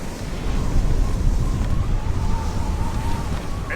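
Mortar shells hitting a sailing ship during a naval ambush in the Assassin's Creed Rogue video game, a loud sustained rumbling blast with wind and water noise, heard alone.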